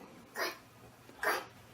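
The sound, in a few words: dog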